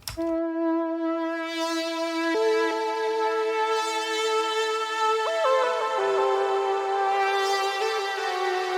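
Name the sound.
saw wave synth lead in Serum with portamento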